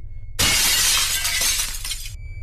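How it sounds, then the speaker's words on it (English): A sudden loud crash of shattering glass and dishes bursts out, followed by a couple of seconds of scattering, tinkling fragments. "I heard dishes being thrown aggressively against the door and glass shattering constantly."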